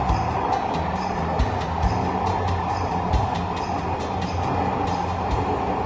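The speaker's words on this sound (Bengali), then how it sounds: "এখন ট্রেন যে স্পিডে চলছে" A Dhaka Metro Rail train runs between stations on the Uttara–Agargaon line, giving a steady, even rumble with faint rail clicks from inside the car.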